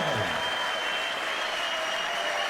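Darts crowd at the 2012 European Darts Championship quarter final cheering and applauding after a 177 score, a steady, dense roar of clapping and voices filling the arena.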